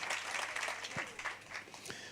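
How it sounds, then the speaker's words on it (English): Workshop attendees applaud a finalist, a moderate spread of clapping from a modest crowd, fairly quiet overall, with a few louder individual claps and a faint voice briefly cutting through. "Give yourself a round of applause."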